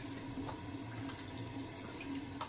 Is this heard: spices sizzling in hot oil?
no